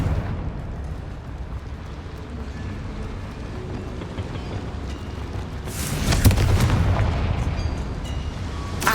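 An explosive Confringo spell goes off in a video game, a loud burst with crackling debris and rumble arriving several seconds in over an ongoing low ambient drone.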